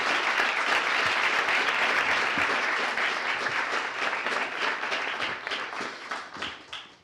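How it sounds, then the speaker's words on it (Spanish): Conference audience applauding a speaker at a constitutional law congress, loud sustained clapping that gradually thins and fades toward the end, with no talk over it. "un aplauso, por favor, para la doctora Vergallo"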